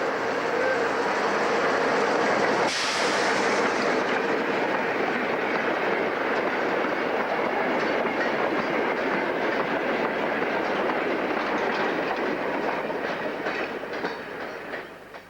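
A Class 03 shunting locomotive hauls a freight train back from Yarwell on a heritage railway, giving a steady, close rumble with rhythmic wheel clatter that carries throughout and eases slightly at the end. No voices are heard.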